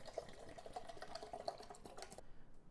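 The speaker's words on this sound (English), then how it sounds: "we're gonna fill it up with some water" Water trickling and splashing into a small container filled for brewing coffee in a KFLOW coffee press, a soft continuous pour with faint drips that cuts off near the end.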